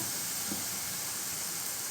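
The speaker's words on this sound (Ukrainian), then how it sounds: "і смажимо приблизно хвилину півтори з однієї сторони і з іншої до золотистого кольору" A constant, even hiss of dough balls frying in lard, loud and unbroken throughout with no voices.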